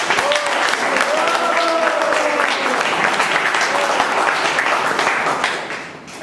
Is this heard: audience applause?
yes